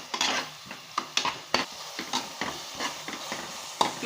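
Ground masala frying in a pan for prawn biryani, stirred steadily with a utensil: repeated clattering scrapes against the pan in an uneven rhythm over a low sizzle, close and fairly clear, no voices.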